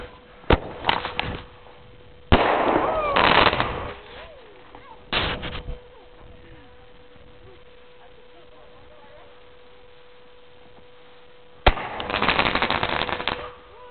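Fireworks set off at a family display go off in sharp blasts: a couple of quick bangs, two loud crackling bursts early on, another short burst, then a long quiet stretch before a final big booming crackle near the end.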